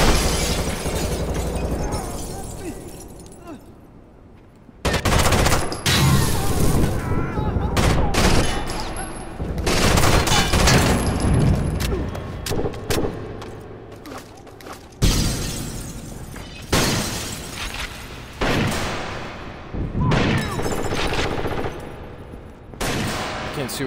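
Sustained gunfire and automatic bursts in the video game Rainbow Six Vegas during a casino vault mission, loud and dense with brief breaks and sharp cracks. A voice can be heard faintly beneath the shooting.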